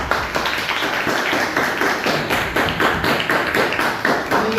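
Schoolchildren at a high-school prize distribution clap together in a steady, dense round of applause that stays loud and close for the whole stretch.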